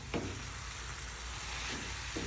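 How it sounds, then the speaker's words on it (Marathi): Paneer and fenugreek leaves sautéing in a pan for paneer bhurji give a steady, close sizzle with a couple of brief stirring scrapes, and no talking. "मला असं परतून घ्यायचं आता पनीरला आणि मेथीला"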